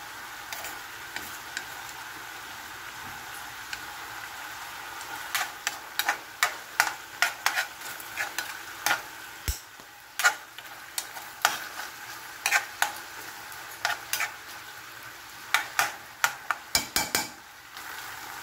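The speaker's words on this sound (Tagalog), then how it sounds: "ilagay ko na po ang ating bawang at sibuyas." Chopped garlic and onion sizzle in a pan with a steady frying hiss, while a utensil scrapes and taps against the pan in scattered, sharp knocks.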